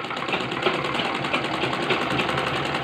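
A sewing machine stitches pleats into a two-panel salwar, running in a steady continuous whir with a fine rapid needle rhythm, close and moderately loud, with no talk over it.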